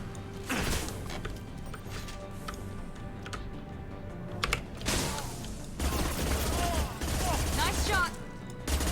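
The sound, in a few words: gunfire in the video game Mass Effect 2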